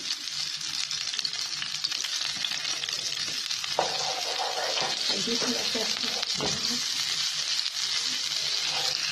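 Bay leaf and turmeric fry in hot oil with cumin and chillies for muttar paneer masala, a continuous close sizzle with brief clinks and scrapes of stirring, while someone talks quietly over it.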